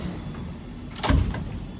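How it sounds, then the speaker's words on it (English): A machining centre's enclosure door on a CNC machine cutting 13B Renesis rotors slides shut in one short thud against a steady shop hum. "and then all I do is close the door up"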